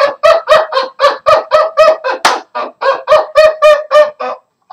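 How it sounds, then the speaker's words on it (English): A flock of Canada geese calls overhead, a rapid run of loud, close, nasal honks repeating about three times a second with brief gaps, no talk. "It sounds like a flock of Canadian geese flying overhead."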